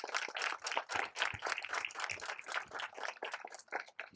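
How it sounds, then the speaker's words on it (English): Applause for law enforcement and community agencies at a district attorney's office press conference on domestic violence awareness: a quiet, continuous patter of many hands clapping, with the irregular beats of a crowd. "I want to ask everybody to give them a round of applause for everything that they do"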